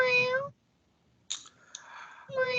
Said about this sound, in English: That certainly sounds like a cat to me, too.